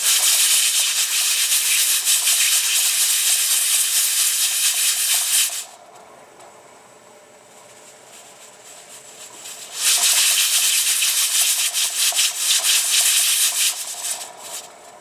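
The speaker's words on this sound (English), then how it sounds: "now that we have a regular steam hiss, we start our timer for processing" Steady, loud steam hissing from a pressure canner, dropping to a quieter rush for a few seconds before the strong hiss returns.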